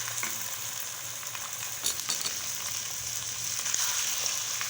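Chicken added to a pan of oil with ginger garlic paste for white chicken karahi, sizzling and crackling steadily at close range with occasional stirring clatter; no talking.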